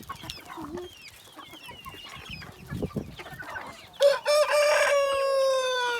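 Chickens cluck and murmur close by, then a rooster lets out a loud, drawn-out crow that dominates the final seconds.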